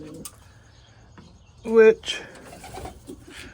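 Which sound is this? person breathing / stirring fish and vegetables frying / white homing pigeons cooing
white homing pigeons cooing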